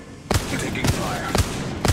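Four evenly spaced gunshots from a sci-fi shooter video game, each a sharp broadband crack with a low thump, fired about every half second over a steady background hum and faint game chatter.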